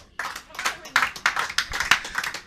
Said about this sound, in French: Ouais, vous pouvez applaudir la voisine.